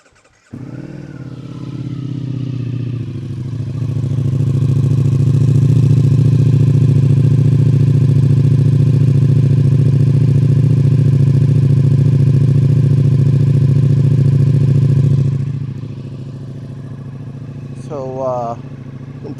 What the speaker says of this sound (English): Let you hear the sound of this Akrapovic exhaust